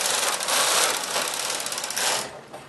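A knitting machine carriage sweeps across the needle bed knitting a row while making a golf club cover, a loud, close, rhythmic mechanical clatter and rasp lasting a couple of seconds before stopping.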